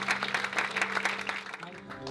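A church congregation claps together during a worship service. The applause is brisk and fairly close for about a second and a half, then fades into a sustained tone and background voices.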